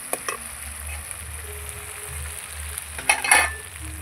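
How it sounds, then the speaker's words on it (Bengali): Bombay duck fish drop into spice masala frying in oil on an outdoor clay stove, a soft low sizzle with a few clinks and a louder burst of sizzling near the end, close by, no talking. "এবার লোটে মাছগুলো দিয়ে দেবো"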